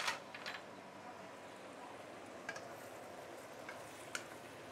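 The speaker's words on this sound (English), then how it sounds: "this is after another 2 minutes, simmering" Buddha's delight with mushrooms simmers in a pot, giving a soft, steady bubbling hiss with a few faint clinks near the start and middle; no one speaks.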